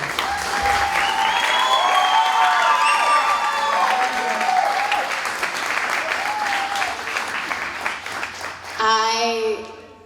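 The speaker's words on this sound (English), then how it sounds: "a round of applause for Malia." An audience applauds after a song at a Cape Verdean association MLK celebration, loud sustained clapping with cheers and whoops, fading near the end as a voice comes in.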